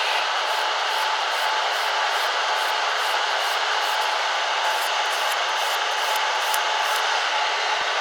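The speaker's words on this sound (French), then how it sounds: "je vais passer avec ma lime grain 180, refaire tous les contours." A 180-grit nail file rubs rapidly back and forth along nail edges in a steady, fast rhythm of close, rasping strokes, loud and continuous with no talking.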